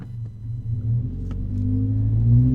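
A Toyota GR86 with a Remark axle-back exhaust, heard from inside the cabin with the rear seats folded, gives a steady low, booming exhaust drone that swells gradually as the car pulls.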